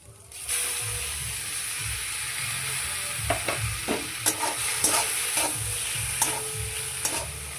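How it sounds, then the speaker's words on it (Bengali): Boiled Maggi noodles tipped into a pan of fried egg and vegetables, a continuous hissing sizzle with soft scraping and clinks of a spoon stirring through it. "এবার এই ম্যাগিটা এর ভেতরে ঢেলে দেবো।"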